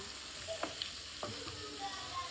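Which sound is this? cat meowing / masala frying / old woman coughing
masala frying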